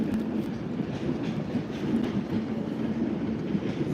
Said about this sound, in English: There's one of the trains coming in,